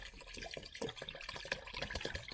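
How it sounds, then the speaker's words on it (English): Degreaser mixed with water poured into a folding tabletop washing machine holding shop towels, a steady close splashing trickle of liquid lasting a couple of seconds. "Here I got some degreaser mixed with water."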